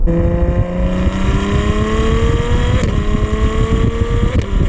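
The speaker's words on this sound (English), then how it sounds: "And because it's a V12, it makes an amazing sound." A naturally aspirated V12 supercar, a Ferrari 812 Superfast or Lamborghini Aventador S, accelerates hard, its engine note rising steadily through the revs with brief dips at gear changes. The engine is loud, close and alone, with no talk.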